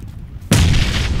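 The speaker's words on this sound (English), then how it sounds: "That was an explosion, Bobby, right next to us." A loud, close explosion erupts suddenly in a street where a bike lies and people have stopped, its heavy boom and roaring aftermath filling the air after a quieter lull.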